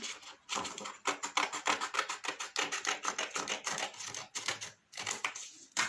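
Small piece of cardboard being snipped with scissors for paper flower crafting, a steady run of close, crisp cutting clicks with brief pauses between strokes.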